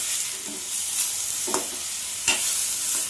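Cleaned banana stem pieces are stirred in a hot pan with soaked moong dal, a steady sizzle running underneath with a few soft scraping strokes from the spoon, close and alone.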